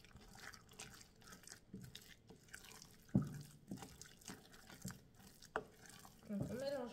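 Wet, sticky mixing of gluten-free pumpkin bread dough with psyllium, for cinnamon autumn rolls, heard as soft irregular squelches and taps that grow busier toward the end, close and moderately quiet.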